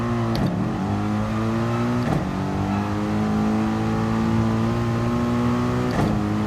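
A race car's engine whines and revs steadily as its wheels spin on a wet track in Gran Turismo Sport, with short surges in pitch at regular intervals.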